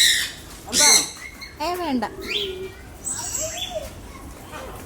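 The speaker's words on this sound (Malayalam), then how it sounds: "മക്കാവോ" A macaw parrot gives several loud, harsh squawks in quick bursts, with a few shorter calls after them, while people talk nearby.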